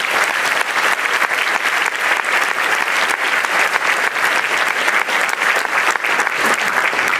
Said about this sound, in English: One last round of applause for all the seniors,